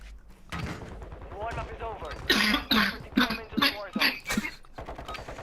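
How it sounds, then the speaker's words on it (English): Harsh, choking coughs from a player come through video game proximity chat in a lobby, a rapid loud burst of several hacks in the middle, with talk around it. "I'm gonna see if I can find that guy that was coughing in the lobby."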